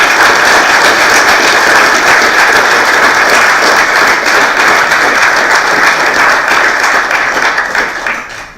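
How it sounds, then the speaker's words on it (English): A large audience at a town's annual meeting gives a sustained, loud round of applause lasting several seconds, dense and steady before tapering off slightly at the end, with no speech over it. "please show your appreciation with a good round of applause"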